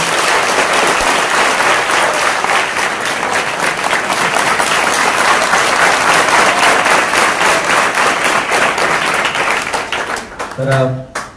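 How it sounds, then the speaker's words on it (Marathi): An audience at a school event on drug- and stress-free India gives loud, sustained clapping for a guest professor, a dense burst of applause that continues steadily before fading out at the end. "सरांसाठी जोरदार टाळ्या एकदा"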